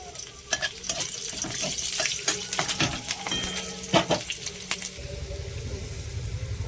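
Whole garlic cloves and dried red chillies fry in oil with a soft sizzle, broken by irregular clinks and scrapes of stirring and a hiss that thickens toward the end. No one speaks.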